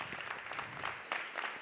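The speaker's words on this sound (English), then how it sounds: "One more round of applause as we celebrate this new exciting chapter" Short burst of audience applause at a livestreamed education and skills event, fairly faint and distant, with a dense wash of many hands clapping and a few sharper swells.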